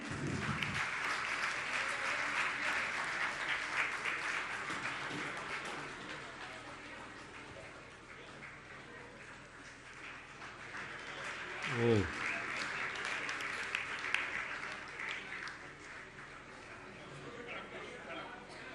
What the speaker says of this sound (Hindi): आप लोग तालियां बजाते रहें।